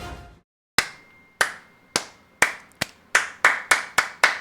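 About ten distinct hand claps, spaced irregularly at first and then coming faster and evenly, sharp and close with short decays, each one standing alone in near silence.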